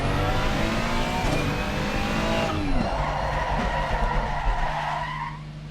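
Car tires lock and skid in the Assetto Corsa Competizione racing game, a sustained squeal over engine noise with gear-shifting pitch sweeps, loud and steady before easing off at the end.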